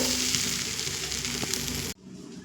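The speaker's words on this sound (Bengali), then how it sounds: "দেখুন আলু তো ভাজা হচ্ছে" Potatoes seasoned with salt and turmeric fry in oil over a medium flame, giving a steady, close, even sizzle that runs without pause and then cuts off abruptly near the end.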